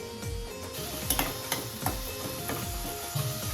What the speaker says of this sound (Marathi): तेल टाकायचं, जरा कांदा टाकते, सगळा कांदा टाकायचा